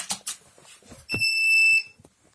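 A single sharp, high-pitched electronic beep lasting under a second from a FOXSUR 12V pulse battery charger plugged into a socket, loud and close, preceded by some soft handling clicks and rustling.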